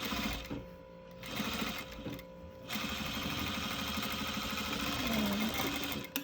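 A sewing machine top stitching a fabric mask runs with a steady rapid mechanical whir and needle chatter, pausing briefly near the start, then stitching continuously at moderate volume.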